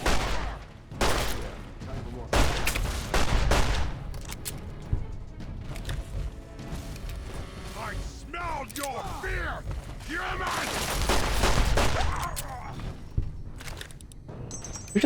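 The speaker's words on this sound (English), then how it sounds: "Which was only 3 bullets I just fired." Gunshots from a gun in Fallout 3 / New Vegas, several heavy reports with booming tails spread across the stretch, loud and near, with a voice talking between them.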